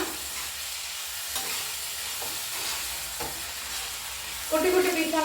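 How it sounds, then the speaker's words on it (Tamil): Steady sizzling of dried vanjaram fish sautéing in a pan, with occasional stirring scrapes and a brighter burst of crackle near the end. "கருவாடு ஆட் பண்ண உடனே வதக்கிக்கலாம்."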